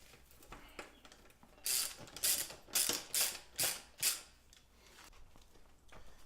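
A ratchet wrench loosening a BMX bike axle nut: a few quiet clicks, then five or six loud, rhythmic bursts of rapid ratcheting up close, each about half a second long.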